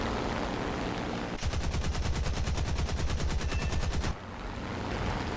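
Guns on a Typhoon Mk 1B fighter fire in War Thunder as one fast, steady burst of heavy, evenly spaced shots. The burst lasts a few seconds over constant engine and air noise and then cuts off.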